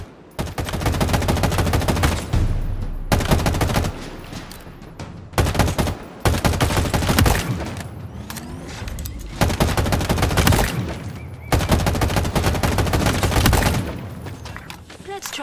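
Live-round weapon fire in the video game Halo Infinite: sustained loud automatic bursts lasting a second or two each, broken by short pauses, with game voices speaking now and then between the bursts.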